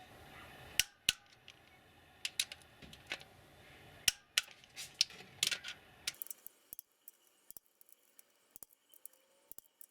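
Sharp metallic clicks and ticks come in irregular bursts from a torque wrench set to 14 Nm, tightening valve adjusters on a Honda 1.8/2.0 engine up close, with a low background hum that drops out partway through.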